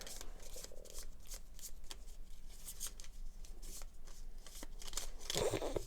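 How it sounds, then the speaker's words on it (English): A deck of Gloomhaven playing cards is shuffled by hand in a rapid series of riffling, flapping bursts, close and fairly quiet, with a sharper clatter near the end. "This is the ugliest shuffling job I've ever done."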